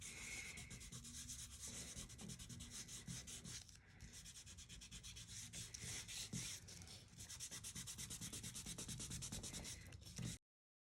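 Tea dye distress ink is rubbed onto paper with quick, rhythmic strokes that make a dense, continuous scrubbing close up, pausing briefly once before stopping abruptly.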